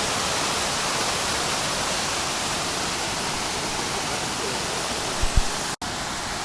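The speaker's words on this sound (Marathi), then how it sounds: "पाऊस खूप जोरात मध्ये पडतोय." Heavy monsoon rain falls at the Matheran hill station as an even, roaring wash of noise, steady and enveloping, with a couple of brief knocks near the end.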